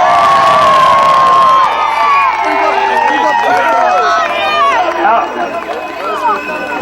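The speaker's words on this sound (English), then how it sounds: "Big round of applause to them." A crowd cheers, whoops and shouts at the 2001 Limerick senior hurling final between Adare and Patrickswell, a loud, dense roar with high excited voices and children shouting that runs throughout, swelling and falling slightly near the end.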